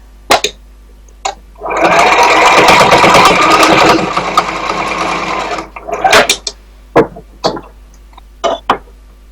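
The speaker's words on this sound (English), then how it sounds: "So now I'm going to sew the edges." Sewing machine stitching along the edges of a pleated cloth face mask, a steady close whirring run of about two seconds, then several short bursts of stitching and separate clicks.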